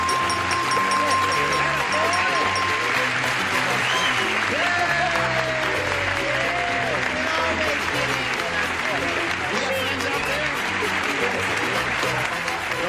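Studio audience on a 1974 TV game show applauding loudly and continuously, a dense wash of clapping with cheers and shouts mixed in and voices over it.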